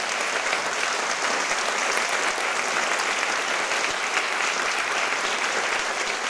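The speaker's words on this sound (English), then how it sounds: "let's give a huge round of applause to Jen" A large audience applauds Jennifer Rumsey at a Visionary Voices talk, steady, dense clapping holding at an even level from start to finish with no pauses.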